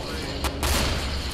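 Shotgun blasts in CS:GO, one or two sharp booming shots in quick succession over a short, loud stretch.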